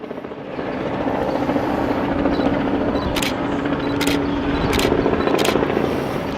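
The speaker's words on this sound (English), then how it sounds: "Lots of helicopters." Steady rotor chop of several helicopters flying overhead at a 2017 parade of naval ships, a loud continuous thrum with a few brief high clicks, no voices.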